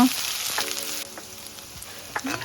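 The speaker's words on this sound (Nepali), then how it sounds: "प्याज अलिक खैरो भएपछि लसुन अदुवा राखेर भुट्नुपर्छ।" Onion, garlic and ginger sizzle steadily in a hot pan, a continuous close frying hiss broken by a few brief stirring scrapes, with no talking.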